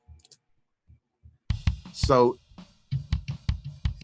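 Soloed live bass drum track with the gate off, giving a steady series of low, dull kick thumps with faint background leakage from the rest of the kit, plus a brief spoken word and a short pitched sound near the start.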